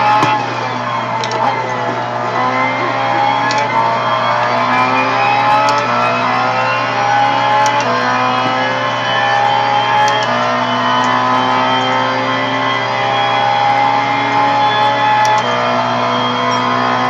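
Honda S2000 four-cylinder engine racing at Suzuka in Gran Turismo 5, a loud sustained high-revving drone that rises and shifts pitch through gear changes, continuous throughout.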